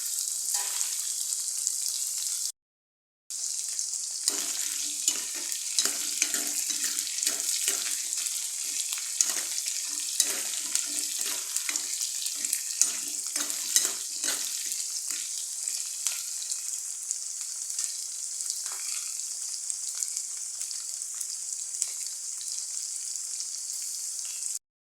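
Garlic cloves and chillies sizzle in hot oil in a pan for a dried fish curry. A bright, steady hiss runs throughout, with small crackles and the scrape of stirring, close to the listener and broken by one brief silence near the start.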